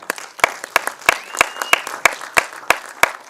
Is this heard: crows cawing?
no